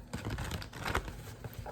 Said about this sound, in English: So let me shuffle it.